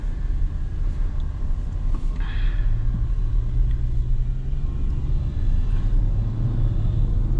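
A C8 Corvette driving, its engine giving a deep steady rumble with road noise from inside the cabin, a brief word spoken over it.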